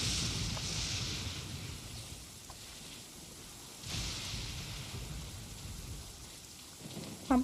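Steady rain falls in the video game Genshin Impact, a continuous soft patter with low rumbling swells, and a brief sharp sound near the end; no talking.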